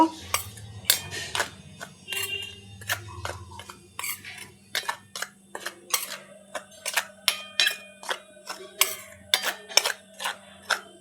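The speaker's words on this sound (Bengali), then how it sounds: "এখানে নিয়ে নিচ্ছি যেটা বেসন, চালের গুঁড়ো, ভাজা মশলা, হলুদ গুঁড়ো, লবণ সমস্ত একসঙ্গে মিক্সড করে নেব" A spoon mixes gram flour, rice flour, roasted spices, turmeric and salt in a bowl, producing repeated close clinks and scrapes in an uneven rhythm, with no talking.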